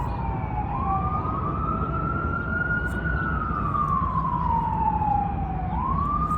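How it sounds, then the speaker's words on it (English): An emergency vehicle siren wails nearby, one long rising and falling tone sweeping slowly over steady traffic rumble, loud and clear for the whole stretch. "The sirens"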